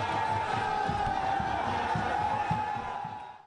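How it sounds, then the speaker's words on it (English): A large political rally crowd chants slogans in a steady rhythmic roar, dense massed voices with regular pulsing beats, continuous and fairly loud before fading at the end. "The crowd was in a good mood and chanted slogans freely."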